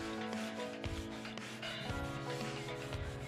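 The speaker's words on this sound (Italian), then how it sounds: "Sono stracci apposta per lucidare." A cloth with abrasive paste rubs over car bodywork to remove scratches and grime, a continuous close scrubbing and rasping texture with rhythmic strokes, accompanied by a steady tonal background.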